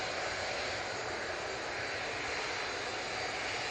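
A Jet2 Boeing 737 in .com livery roars steadily at Manchester Airport, a loud, continuous engine rush filling the whole stretch with no talk.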